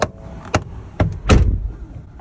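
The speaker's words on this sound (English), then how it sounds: "So yesterday the door started popping." A 2022 two-door Ford Bronco Sasquatch with the 2.7 engine makes popping sounds at the door hinge: a few sharp clicks and thuds, with a heavier knock near the end, close and clear with no talking.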